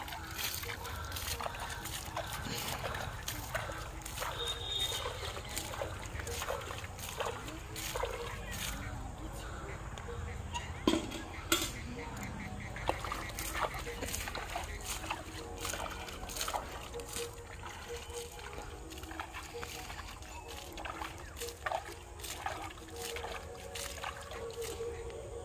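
Water from a pond poured and sloshed over dry garden plants and soil, a steady splashing trickle with occasional louder slops, heard outdoors under intermittent talk.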